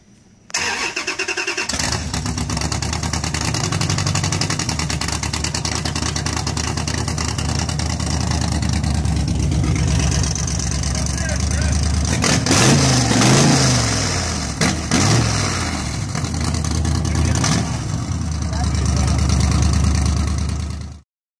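A Jeep concept car with electronic side exhaust cutouts starts up, then settles into a loud, throaty idle with a few sharp revs in the middle, close and unbroken for about twenty seconds.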